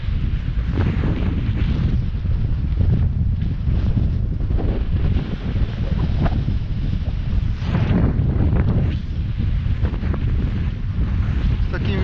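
Strong gusting wind buffets the microphone throughout while out fishing on water, a loud, steady broadband roar with rustling surges.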